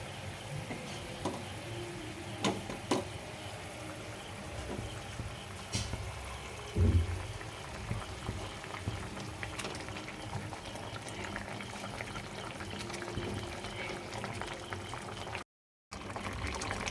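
Water simmering in a pan with cooked spice paste for egg omelette curry, a soft, steady bubbling and faint liquid crackle with a brief louder bump partway through, heard close and quiet.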